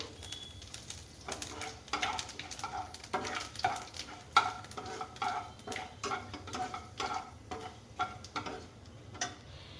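Soft sizzling as panch phoron and black cumin fry in oil, with irregular stirring taps and scrapes of a spoon against a pan, fairly quiet and steady throughout.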